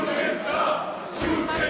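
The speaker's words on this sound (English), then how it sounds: "Crowd chanting shooting star from Jon Moxley." Wrestling crowd at a CZW show chanting for Jon Moxley, a dense, sustained roar of many voices with a swelling rhythmic push, loud and close throughout.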